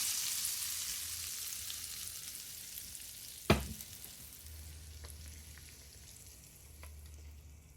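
Hot Kashmiri chili tempering poured over mutton dal hits with a sharp sudden splash, then a quiet, fading crackle and sizzle with small scattered pops.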